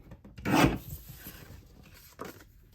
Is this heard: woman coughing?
no